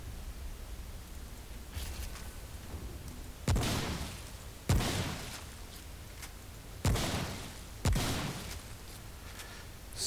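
Shotgun fire in the video game Remnant: From the Ashes: four heavy booming blasts at uneven intervals, each fading quickly over a steady background hiss, with no talking.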